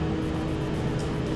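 A car reversing in the driving game City Car Driving, a steady low engine drone with faint rising whine, continuous and close for a brief moment with no talk.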